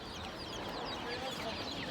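Chickens cluck in a busy Turkish poultry market in Taşköprü, Kastamonu, a dense steady chatter of fowl noise filling the whole stretch, with market voices mixed in beneath.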